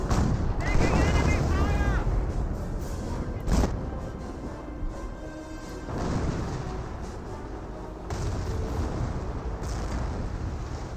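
Artillery shells and landmine blasts in the Company of Heroes real-time strategy game, including a 50mm off-map barrage: a steady rumbling battle din with several heavy booming explosions spaced a few seconds apart.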